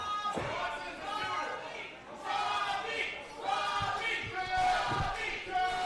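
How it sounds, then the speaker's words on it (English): A fired-up wrestling crowd at a tag team title match roars and chants in loud rising swells, with voices talking over the steady noise of the arena. "Fired up crowd tonight for this tag team title match."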